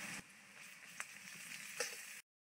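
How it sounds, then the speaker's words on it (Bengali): Grated garlic, three or four cloves, fries in a wok with onion, a faint continuous sizzle broken by a couple of soft stirring clicks before stopping abruptly. "তারপর দিয়ে দিচ্ছি 3-4 কোয়া মতো রসুন গ্রেট করা,"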